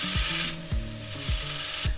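A lathe turning tool scrapes lightly against a spinning sycamore bowl rim in short rhythmic passes, a raspy whir over the steady hum of a motor.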